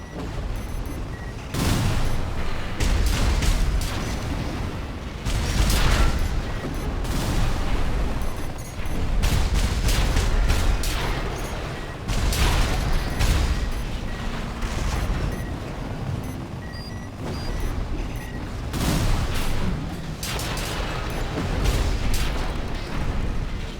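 Missiles launched and exploding in Armored Core 6 combat, a loud sequence of repeated booming blasts and rumbling detonations arriving in irregular volleys, interspersed with sharp impacts and crackling debris, with no voices.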